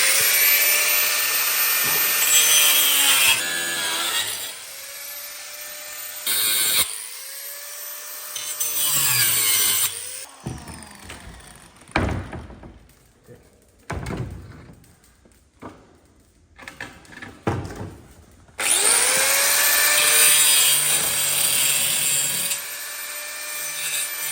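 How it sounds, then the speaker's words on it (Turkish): A spiral saw and wood cutter work through wood for caravan stairs: loud, sustained whining cutting bursts at the start and end, with scraping, intermittent cuts and brief pauses in between. "kardeş spiral ve ahşap kesiciyle bu işi halledeceğiz"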